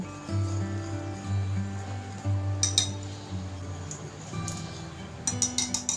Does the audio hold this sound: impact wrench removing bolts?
no